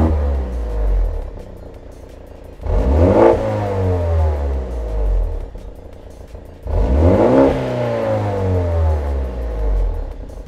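A BMW M135i F40 fitted with a Cobra Sport cat-back exhaust is blipped twice from idle, each loud, close rev climbing sharply and then dropping back to a low idling burble.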